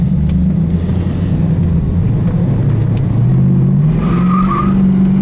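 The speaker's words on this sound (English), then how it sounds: "we're doing 70 mile an hour right now" A 1974 Dodge Challenger Rallye's 318 two-barrel V8 drones steadily at 70 mph inside the cabin, low rumbling hum with rising pitch shifts and road noise, loud and continuous.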